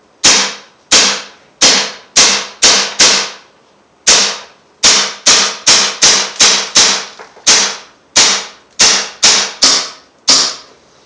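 A BB/pellet gun fires semi-auto into a homemade portable pellet trap, about twenty sharp, close cracks in uneven bursts with short gaps between groups, each shot ending in a quick metallic ring.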